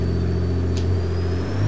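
A turbocharged 700 hp 1995 BMW E34 M5 with an S38 engine in Forza Horizon 3, droning steadily at high revs against the limiter, loud and continuous with a slight stutter.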